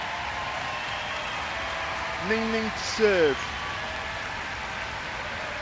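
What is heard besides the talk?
arena crowd applauding players leaving after table tennis match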